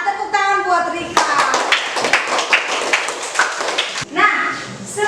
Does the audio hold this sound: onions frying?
no